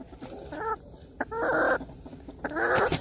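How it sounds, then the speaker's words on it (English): A chicken makes three loud, nearby bursts of clucking squawks spaced a second apart over a low background hum, with no talking. "I never get to play with chickens."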